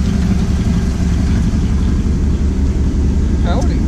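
A Mazda RX8 rumbles loudly and steadily at idle, a constant low engine drone that fills the whole stretch, close to the listener.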